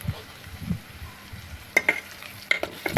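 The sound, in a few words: onions frying in pan for egg curry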